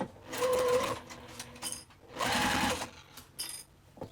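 A sewing machine stitches around the edge of an apothecary tote bag in two sustained bursts of fast, whirring needle action, with brief pauses and faint handling clicks between runs.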